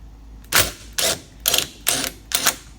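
Five evenly spaced bursts from an impact wrench at close range on a Yamaha Blaster stator, each a short rattling hammer lasting about a quarter second, with no talk.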